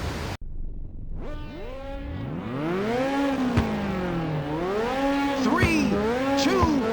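Race car engines in Ridge Racer on PSP at Seaside Route 765, revving up and down in rising and falling whines before the start, with an announcer's voice speaking over them.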